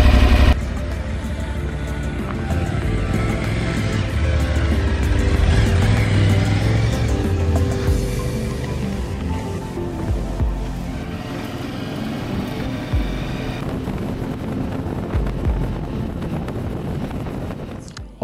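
An Aprilia Tuareg 660 motorcycle riding off, its engine droning continuously under heavy wind noise as it moves along, loud and close throughout.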